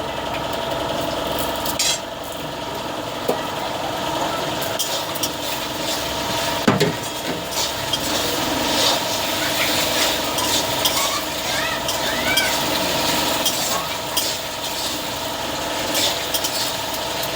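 Onion paste frying together with browned onions in a pan for a Bengali chicken curry, a steady close sizzle with occasional stirring scrapes and clinks, continuous and moderately loud, no talking.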